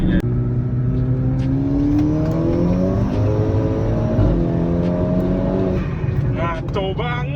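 A Volkswagen Golf GTI with a new clutch and limited-slip differential accelerates hard, engine note climbing steadily through the gears in a loud, continuous rising drone, with someone speaking near the end.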